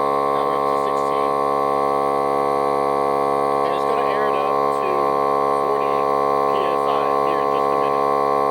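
Milwaukee M18 cordless compressor inflating a tire, a loud steady harmonic hum that runs unbroken throughout, with faint voice-like traces over it.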